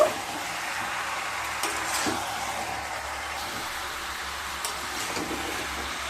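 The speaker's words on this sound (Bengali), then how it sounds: "এবার মশলার সাথে খুব ভালোভাবে মিশিয়ে নেব।" Zucchini is stirred and mixed with spices in a pan, giving a soft continuous sizzle with faint scraping and shuffling as the pieces are turned, quiet and close.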